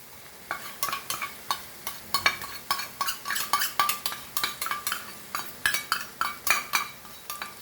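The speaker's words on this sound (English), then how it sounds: "And mix this nicely and fry this for few minutes." A metal spoon scrapes and clinks against the pan in a steady rhythm, about two strokes a second, as masala paste fries for a prawn curry. A soft sizzle runs underneath and nobody talks.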